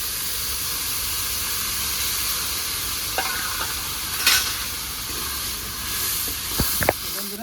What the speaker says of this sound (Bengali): পেঁয়াজটা আমার ভাজা হয়ে গেছে। দেখুন তেলটা ছেড়ে দিয়েছে।